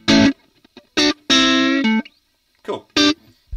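Electric guitar run through a UAD Marshall Silver Jubilee amp plugin, loud, sustained distorted chords in short bursts separated by silence, with a longer ringing chord in the middle and a few quieter picked notes.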